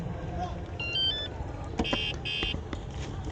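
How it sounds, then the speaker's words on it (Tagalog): A Vespa scooter alarm sounds at the Moto Heritage 2024 motorcycle show in Alabang, giving a few short electronic beeping chirps amid crowd noise while people talk nearby. "Maingay yan pag nag-alarm, tinan mo."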